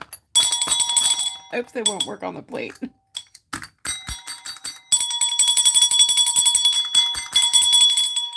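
Bells ring in repeated bright, sustained peals that start and stop several times, loud and close, with a voice speaking between the ringing bursts.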